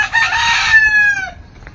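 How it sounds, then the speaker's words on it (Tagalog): A rooster crows once outside a house in Tacloban, a loud, drawn-out cock-a-doodle-doo close by that tails off, with faint clucking around it. "Damot manok."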